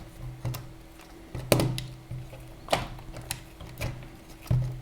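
A Loctite-secured nut being loosened on a hand-cranked air blower, a series of sharp close ratcheting clicks and metallic knocks at irregular intervals, no talking.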